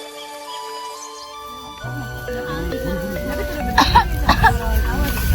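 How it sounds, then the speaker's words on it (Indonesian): A woman coughs a few times in quick bursts near the end, close by, over music and background sound. "Ibu hanya batuk biasa saja."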